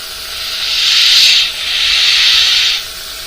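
Spray painting a car's gill plate with compressed air at 20 psi gives two long airy hisses, close and loud, separated by a short dip, alone without talk.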